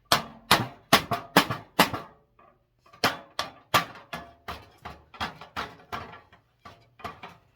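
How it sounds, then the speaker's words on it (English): Sharp, ringing hammer blows strike the metal of a 1951 T. Cohn dollhouse repeatedly at a steady pace, a quick run of hits, a brief pause, then another series, loud and close. "I hammer harder till I get that middle where I want it"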